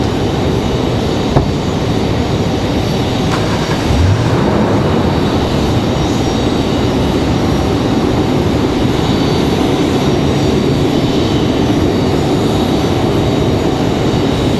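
At Raleigh-Durham airport an Icelandair Boeing 737 MAX 9 jet taxis with a loud, steady engine rumble and roar. A rising low whoosh comes near four seconds, then the sound holds even and unbroken with no speech.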